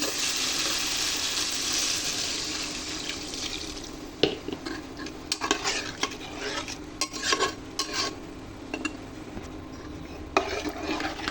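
Cumin seeds fry in a pan for a hilsa and taro dish, a soft sizzle under a spoon scraping and stirring with scattered clinks and sharp taps.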